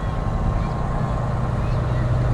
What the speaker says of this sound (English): We have another unit from the Zaleski Volunteer Fire Department.